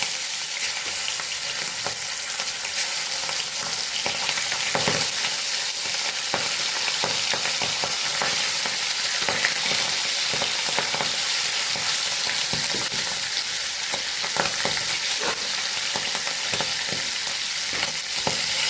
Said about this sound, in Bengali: এবার আমি মাছগুলো দিয়ে দেবো একটা একটা করে।